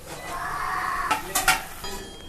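Paneer pieces go into a pot of curry gravy with mint and coriander, sounding as clinks and scrapes of a utensil against the pot over a soft simmer, with a few sharper metallic taps near the end.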